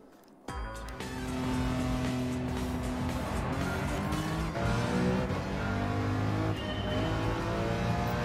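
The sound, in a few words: race car driving on Nürburgring in video game Gran Turismo 7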